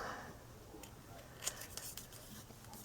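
Scissors snipping through paper scraps at a crafting table, a few quick close cuts, faint and alone.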